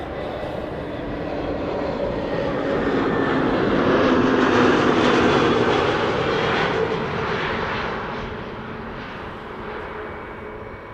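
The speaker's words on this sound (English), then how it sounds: "Flight 460 arriving from Reykjavik. A320 Neo." An Airbus A320neo arriving from Reykjavik as Flight 460 makes a broad jet roar that swells to a peak midway and then gradually fades, heard alone without talk.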